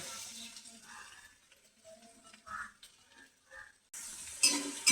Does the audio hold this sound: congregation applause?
no